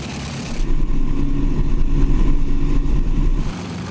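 De Havilland Mosquito aircraft engines running up on the ground, a loud steady deep drone with low throbbing that swells in after a brief moment and holds strong before easing slightly at the end.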